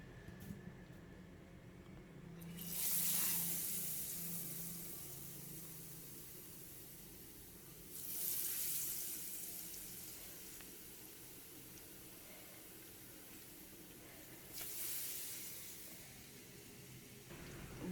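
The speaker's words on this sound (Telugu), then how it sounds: "బాటిల్ తీసుకొని ఆ బాటిల్లో పిండి ఇట్లా పోసుకొని బజ్జీ ఇట్లా ముంచి ఇట్లా ఆయిల్లో వేయాలండి" Chili fritters coated in batter and dropped into hot oil, giving three separate bursts of loud hissing sizzle spaced several seconds apart, each fading back to a soft steady frying hiss.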